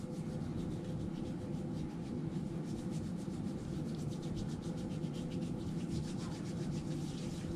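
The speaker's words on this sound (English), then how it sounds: "Now to do the alcohol hand rub." Hands rubbed together with alcohol hand rub during PPE removal, a steady continuous soft swishing friction that stays faint and even throughout, with no speech.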